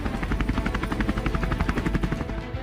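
An LCH light combat helicopter flies overhead, its rotor giving a loud, steady rapid thudding with pulsing beats throughout, plus a constant turbine whine.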